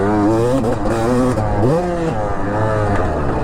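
An old two-stroke dirt bike engine screams loud and close while being ridden, its pitch rising and dipping as the throttle is worked.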